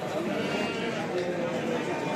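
Sheep bleat at a livestock market in Kadirli, a dense overlapping chorus of animal calls heard close and continuous, with someone talking over them.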